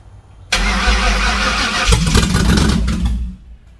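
A 1986 Ford Fox Body car engine cranks and fires after a fuel pump install, running loudly and roughly for about three seconds before cutting out, with no talk over it.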